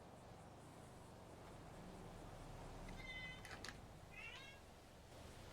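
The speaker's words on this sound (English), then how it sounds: "Is it a baby or a cat?" A cat meows twice, fairly close: a short, bright call and then a second, wavering one, both quiet over a soft room hum.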